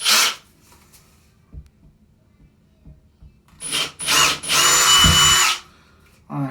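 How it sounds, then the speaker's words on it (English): A drill bit probes drywall while checking for a stud, with short bursts of high whining drilling and one longer run near the end, separated by quiet pauses. "you can do a stud check real quick, either with a drill tip"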